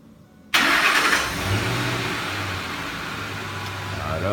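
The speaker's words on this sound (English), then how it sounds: "I'm gonna go ahead and remote start it." A 2006 Ford F-150 engine starts by remote start: a sudden crank catches at once, then settles into a steady, close idle.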